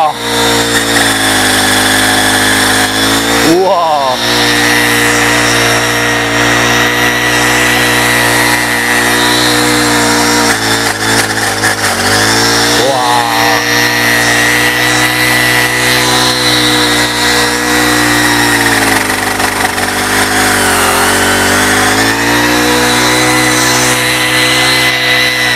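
An engine pole saw attachment on a 3-in-1 multi brush cutter runs at a loud, steady high drone while cutting branches. Its pitch sags briefly a few times as the blade bites into the wood.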